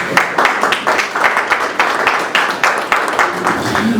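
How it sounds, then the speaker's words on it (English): A small audience at an art exhibition claps with distinct, fairly close individual hand claps that fall in a loose rhythm and ebb and swell over a few seconds. "Please clap for them"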